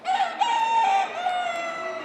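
A rooster rescued from a fighting operation in Cleveland crows one long, drawn-out call close by at a Ravenna animal sanctuary, with no talk over it.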